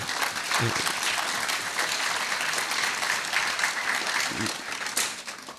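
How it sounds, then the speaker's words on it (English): Dense, steady audience applause for a young government minister at a national science fair, loud and continuous throughout with a few louder bursts of clapping. "Let's warmly applaud her for her effort today."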